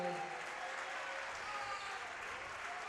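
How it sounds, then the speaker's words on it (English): Visiting Minster Wildcat fans applaud at a boys varsity high school basketball game in a gym, a steady dense wash of clapping filling the hall throughout, with speech faintly underneath. "Noah Enneking gets a well-deserved round of applause from the visiting Minster Wildcat fans here tonight"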